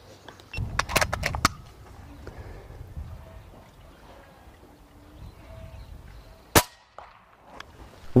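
A single sharp, short crack from a Reximex Accura PCP air rifle rings out mid-clip, preceded by metallic clanks and handling noise, with a quieter outdoor background and another faint click near the end.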